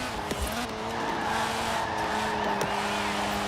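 Fiat X 1/9 tires squealing through a corner in Forza Horizon 4 during a B Class rally race, a steady sustained skid over a continuous engine drone, loud and close with no talk.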